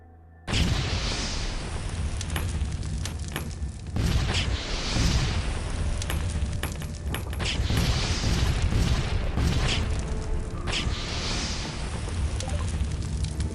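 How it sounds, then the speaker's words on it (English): Repeated frag grenade blasts in the Fallout Equestria game, a dense run of loud booms and rumbling explosions one after another with no pause, filling the whole stretch. "I have quite a few frag grenades."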